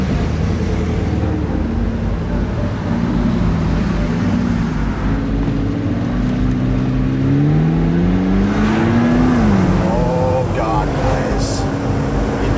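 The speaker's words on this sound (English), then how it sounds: "Driving the orange McLaren, by far the coolest, most expensive car I've ever driven in my life" Orange McLaren sports car cruising with the top down on California back roads, steady engine drone with wind, then revs climbing and dropping through gear changes, close and continuous under ongoing talk.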